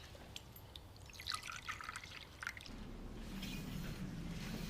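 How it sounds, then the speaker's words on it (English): Coffee being poured in a domestic kitchen, a soft trickling splash that starts faint and swells into a steadier, fuller pour toward the end, with no talking over it. "Just pour the coffee."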